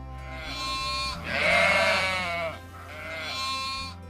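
Sheep and goats in a Mongolian nomadic village bleat loudly and close by, two long wavering calls in succession, with no voices.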